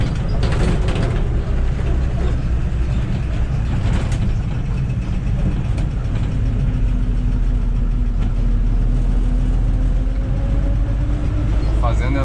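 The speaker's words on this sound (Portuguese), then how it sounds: "Quarta marcha, em torno de 45 por hora. O motor tá bem tranquilo, não tá apanhando e nem tá esgoelado." A car engine hums steadily while cruising in fourth gear at about 45 km/h, a smooth low drone with road and cabin noise and no strain or labouring.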